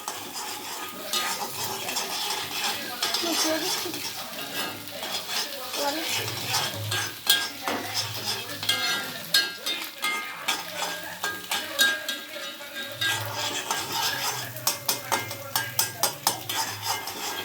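Food stirred and sautéed in a pan as it cooks toward a scrambled-egg texture, a steady stream of utensil scrapes and clinks against the pan over a low sizzle, continuous and close throughout.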